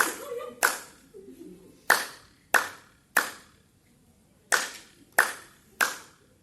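A group claps hands together in counted rounds, with about seven sharp, evenly spaced claps heard in short bursts, with quieter murmuring and background movement between them.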